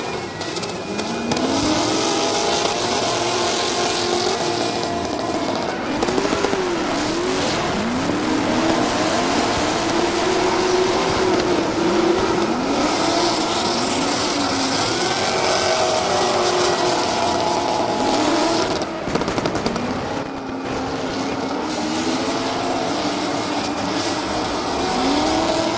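Nissan S13 and Toyota Supra drifting in tandem at an Oman Oil international drift event, loud engines rising and falling in repeated revving sweeps over a dense roar, with tire noise throughout.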